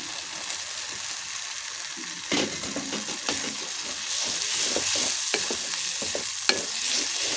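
Prawns sizzle in a pan of fried chili spice mix while a spoon scrapes and stirs them in irregular strokes, the frying hiss steady and fairly quiet throughout.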